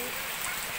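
Heavy storm rain pours down in a dense, unbroken wash of hiss over a brief moment.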